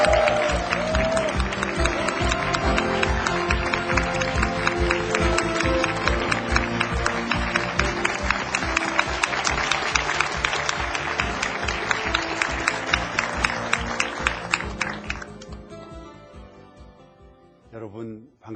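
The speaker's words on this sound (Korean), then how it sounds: "김동영 대표님은 뜨거운 박수로 맞이해 주십시오" Warm, sustained applause from a lecture-hall audience welcoming the CEO of the Korean online bookstore YES24, dense clapping with a rhythmic beat running steadily, then fading out toward the end.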